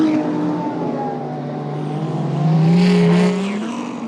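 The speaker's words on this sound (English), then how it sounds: "as you can hear the GT cars setting off from the end of the pit lane in the background." Several GT race cars, including V10 Lamborghinis and Porsches, rev and accelerate away from the end of the pit lane at Monza circuit, a loud layered roar of rising pitches that swells and fades into the distance.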